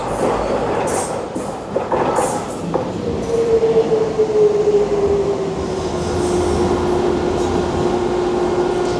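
A train rumbles in with a steady rolling roar, a long gliding whine of brakes settling lower as it slows, with faint clunks early on.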